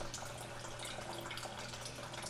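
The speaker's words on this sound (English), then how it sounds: "we still have a little water coming out" Faint, steady trickle of water leaking from a commercial toilet flush valve, a soft continuous hiss with no voices.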